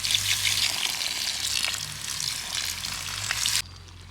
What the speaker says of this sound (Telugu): ఇప్పుడు కొద్దిగా వాటర్ని యాడ్ చేద్దాం.